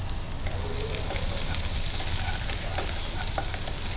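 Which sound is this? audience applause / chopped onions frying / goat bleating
chopped onions frying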